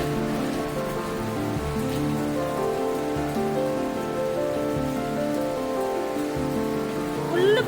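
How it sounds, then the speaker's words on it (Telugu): Heavy rain that started suddenly pours down outside, a dense, even hiss of drops striking surfaces that continues steadily throughout with no talking. "బయట అయితే ఇప్పుడే సడన్ గా వర్షం స్టార్ట్ అయిపోయింది."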